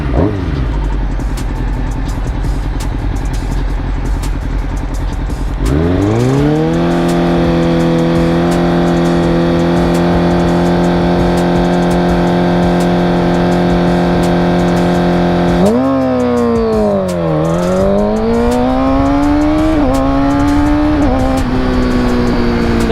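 Car engine held at a steady high-revving launch rpm for several seconds, then released into hard acceleration with rising pitch through a gear change, loud and close with no talk.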